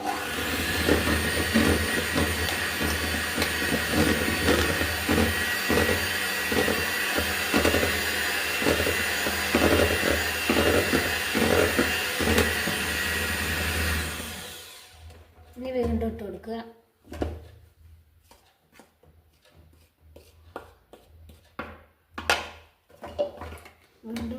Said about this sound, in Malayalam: അത് നമ്മൾ ഒന്നിച്ചിട്ട് ഇട്ട് കൊടുക്കരുത് കുറേശ്ശെ കുറേശ്ശെ ഇട്ട് ബീറ്റ് ചെയ്തെടുക്കണം